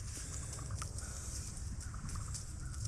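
Mandarin ducks in a farming video game make faint, soft chirping calls in short scattered bursts over a low, steady background hum.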